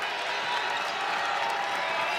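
A dense, steady roar from a basketball arena crowd at a Minnesota vs Ohio State women's game, cheering loudly and continuously with faint clapping, close and filling the space.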